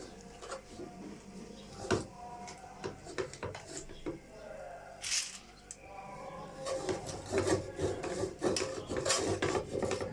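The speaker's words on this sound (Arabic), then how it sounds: "نحط كده ورقه سلوفان حلوه ونلف فيها بقى الكفته بتاعتنا" A sheet of cellophane crinkles and rustles as it is wrapped around grilled kofta, giving close, irregular scratchy bursts and rubbing.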